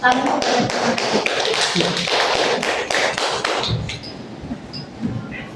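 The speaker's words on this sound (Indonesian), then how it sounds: "Tepuk tangan." A class of students in an Islamic religious education lesson claps hands in a dense, rapid burst lasting a few seconds before it fades, with voices nearby.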